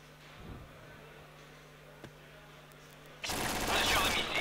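A close-range firefight in the shooter Point Blank during a LAN final match: a few quiet clicks and a thud, then a sudden loud burst of dense gunfire at the end.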